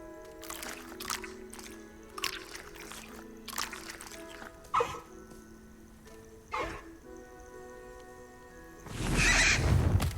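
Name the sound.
hippogriff (Highwing) calls in Hogwarts Legacy video game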